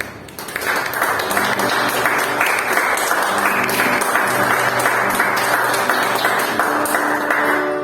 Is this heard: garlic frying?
no